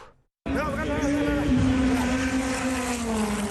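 Loud, continuous roar of old Formula 1 car engines at the Circuit du Castellet starts abruptly after a brief silence, with a sustained whine that holds steady and slowly rises, close and intense.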